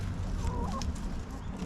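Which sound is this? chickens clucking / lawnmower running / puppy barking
chickens clucking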